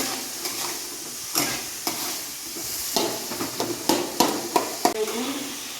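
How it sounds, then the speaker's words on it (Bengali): Spices being sautéed with salted water in a pan for a hilsa fish head and taro curry: wet sizzling with repeated scraping, stirring knocks of a spatula against the pan, close and steady. "লবণ জল দেওয়ার পর আর একটু ভালো করে কষিয়ে নেব"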